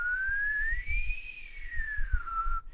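A single person whistles one long, clear sustained tone that glides upward, holds high, then eases back down, with faint low rumbles beneath and no talking.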